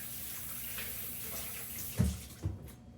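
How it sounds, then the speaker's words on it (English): Hands are rinsed under a running kitchen tap, giving a steady hiss of flowing water broken by two brief splashing surges near the end. "let me rinse my hands here"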